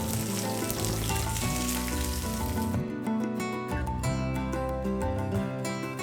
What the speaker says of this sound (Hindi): तेल थोड़ा गर्म हो गया है और अब मैं डाल रही हूँ इसके अंदर भिंडी। इस भिंडी को अब मैं फ्राई करूँगी।